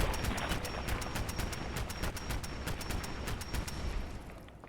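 Rapid, continuous pistol fire from the Mk 45 artillery target pistol aimed at bloatflies in Fallout 4, a dense run of close, loud shots over heavy rumbling noise that barely lets up.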